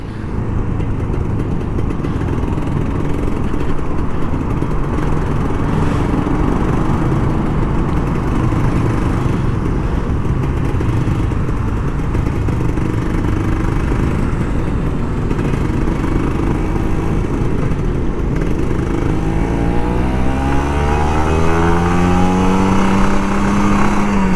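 Kawasaki Ninja RR 150 motorcycle engine droning steadily while riding through Jakarta traffic, a continuous loud hum with wind noise, rising in pitch near the end as the rider revs.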